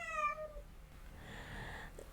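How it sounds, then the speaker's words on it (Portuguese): Two house cats squaring up to fight, with a loud drawn-out meow at the start followed by a quieter, strained yowl a second later, heard fairly close in an indoor room. "acho que meus gatos vão brigar"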